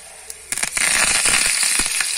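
Curry leaves dropped into hot oil for tempering a potato and pea gassi, bursting into a dense, close crackling and sizzling spatter that starts abruptly and continues steadily.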